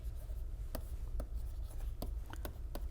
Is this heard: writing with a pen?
yes